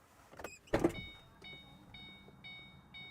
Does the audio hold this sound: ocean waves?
no